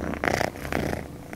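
A pet cat purrs up close in a steady, rumbling rhythm, loud and near, with nobody talking over it.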